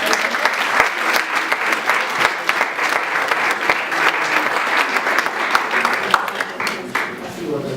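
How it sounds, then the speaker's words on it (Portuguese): Sustained audience applause at a panel discussion, steady dense clapping from a sizeable crowd, loud and close, continuing without pause. "Podem-nos bater palmas."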